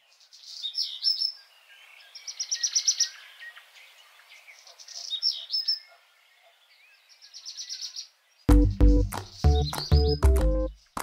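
Songbirds sing in repeated short bursts of high, bright chirps and trills for about eight seconds. Louder, broader call notes follow, much closer and with more low-end body.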